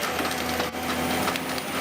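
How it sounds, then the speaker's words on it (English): A harvester machine's long hydraulic arm grips and saws through tree trunks with a loud, continuous grinding and splintering roar of wood, steady across the whole stretch. "Its long hydraulic arm reaches out, grips 2 trees and saws them at once"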